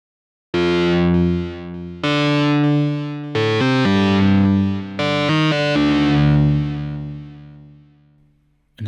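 A Roland Zenology Pro software synthesizer plays sustained chords through distortion, chorus and delay effects, loud and dense with rich harmonics, changing chords several times before fading out, with no voices.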